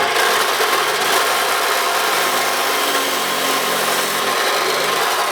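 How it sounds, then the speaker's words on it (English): A chop saw cuts through -6 Earl's braided power steering hose. It makes a loud, continuous, harsh grinding hiss that holds steady for several seconds without pause, with no speech. "So let's take this over the chop saw and cut it."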